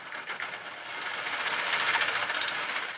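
A 3D-printed pericyclic nutating gearbox spinning up faster, around a 27:1 ratio driving an aluminum extrusion output, giving a busy, rapid whirring rattle that swells and stays fairly constant.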